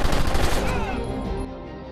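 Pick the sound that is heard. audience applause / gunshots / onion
gunshots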